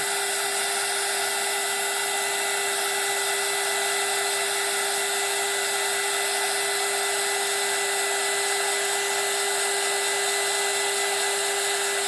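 A hair dryer runs in one loud, continuous, unbroken whir with a steady high whine, held close while drying a craft project, and no one speaks.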